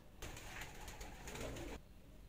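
Pigeons in a breeding loft coo softly and continuously, a low murmuring chorus of several birds heard close by with no talk over it.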